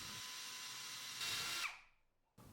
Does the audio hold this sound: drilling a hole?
yes